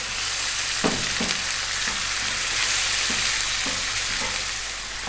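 Ginger garlic paste and salt sizzle steadily in a hot pan over above-medium heat, a dense continuous frying hiss broken by a few soft stirring scrapes, close and alone.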